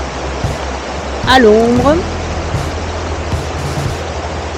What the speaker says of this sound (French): une petite rivière